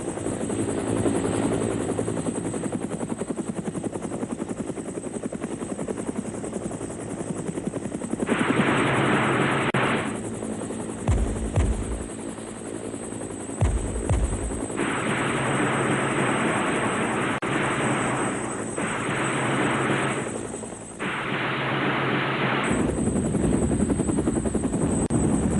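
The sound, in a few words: Soviet heavily armed combat helicopters flying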